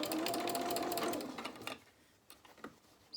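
A sewing machine stitching fabric for small dungarees, running steadily with a whirring hum for about a second and a half, then stopping and leaving a few soft clicks and taps.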